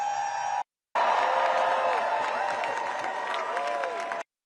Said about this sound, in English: Take a look at this huge crowd right here in our nation's capital.